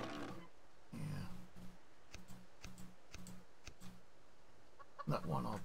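Game chickens in Subsistence cluck in a repeated, fairly even rhythm, accompanied by faint ticking, with louder voice-like bursts near the start and end.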